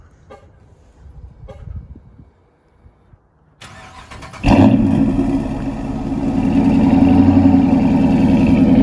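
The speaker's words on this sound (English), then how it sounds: "it's time to do a 20 degree cold start" Dodge Charger R/T AWD fires up from a cold start at 20 degrees, loud and close: the starter whirs briefly, then the engine catches with a sharp flare and settles into a steady, rising high idle.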